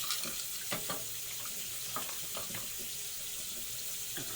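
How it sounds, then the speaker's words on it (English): Water runs steadily from a kitchen tap into a pot, a continuous close splashing rush with a few small clinks, heard alone. "I'm just going to put a little bit of water in there"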